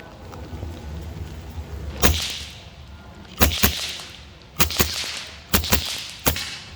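A semi-auto Evanix Cloud Ultra Plus .30 caliber air rifle fires several sharp cracking shots, one single then two quick pairs and a last shot, fairly quiet reports over outdoor ambient noise, no talk.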